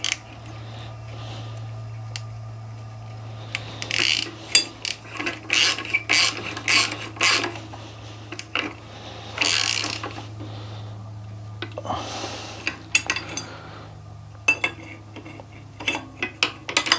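A clutch spanner worked on a motorcycle clutch, producing clusters of sharp metallic ratcheting clicks and taps in irregular bursts over a low steady hum, close and fairly quiet.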